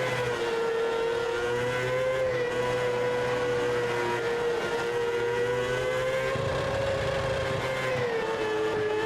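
A sprint car engine screams at full throttle in the World of Outlaws 24 racing game on PC, a loud, continuous high-revving drone with a slight rise and fall in pitch as it carries speed into a corner.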